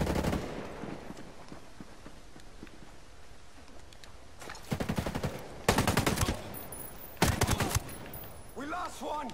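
Gunfire in the shooter game Ghost Recon Breakpoint, faint distant shots at first, then three loud close automatic bursts in a row, with a voice speaking between them.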